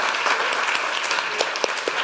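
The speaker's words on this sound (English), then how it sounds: "that deserves a round of applause" Audience applause at a finance and partnerships forum, a steady dense wash of many hands clapping with no talk over it.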